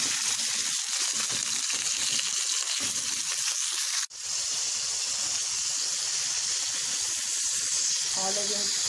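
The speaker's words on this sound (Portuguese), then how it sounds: "Já vou pôr os filezinhos temperados pra fritar." Seasoned steak fillets fry in hot oil with a loud, continuous, hissing sizzle. The sizzle cuts out for an instant midway, then resumes, and a brief faint voice comes in near the end.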